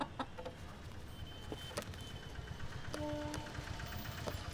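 Faint, scattered clucks from a rooster sound in a quiet setting in Mumbai, with a low engine-like hum running underneath.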